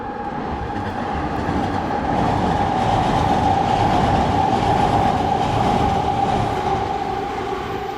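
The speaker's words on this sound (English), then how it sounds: "I'm aware that the train is coming." A train rolls past nearby, a steady loud rumble of wheels and carriages that swells in the middle and eases slightly at the end, with a sustained metallic tone running through it.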